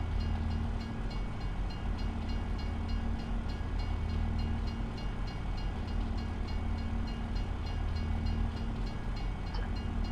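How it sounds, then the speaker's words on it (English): A long freight train rolls past in a farming simulator game, a loud, dense, continuous rumble with a steady low drone and faint rhythmic clatter running unbroken throughout, no talk. "Yeah, pretty long train"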